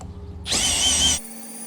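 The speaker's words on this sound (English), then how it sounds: "So I'm gonna reverse my drill." A power drill running in reverse whirs in one short, loud burst lasting about a second, starting and stopping abruptly against a quiet background.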